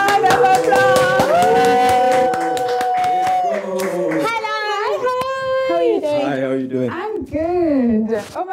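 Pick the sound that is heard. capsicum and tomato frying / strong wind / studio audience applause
studio audience applause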